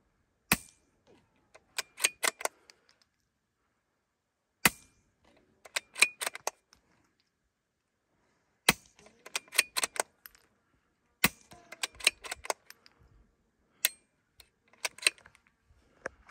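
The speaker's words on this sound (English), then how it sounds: "I'm gonna shoot this one out into the dirt." A Walther PPQ .22lr pistol fitted with a Nelson Little Spoon suppressor fires into dirt outdoors, sharp muffled shots in irregular bursts with quiet gaps, close and clear.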